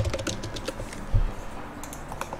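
Light, close clicks of a computer keyboard during AutoCAD drafting, a few quick keystrokes for a number followed by a firmer Enter press, faint and crisp against a quiet room.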